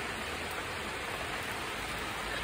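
Heavy rain falls steadily in the Pacific Northwest, a soft, even hiss of downpour on surfaces that holds constant and fairly quiet without a break or any voices.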